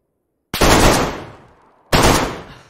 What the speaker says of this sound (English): It's a bit of a kick on this gun.